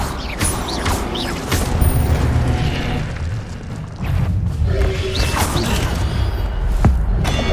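A fire spell is cast in the Hogwarts Legacy video game, producing a loud crashing, booming blast of flame over a steady bed of game sound, with a few sharp impacts and a brief dip before a second surge.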